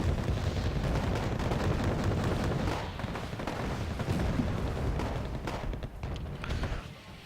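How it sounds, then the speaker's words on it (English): A Cobra attack helicopter fires rocket after rocket in Wargame: AirLand Battle, with dense overlapping booms and blasts rumbling continuously through a busy battle soundscape, no voices heard. "Cobra holding his own. Firing rocket after rocket."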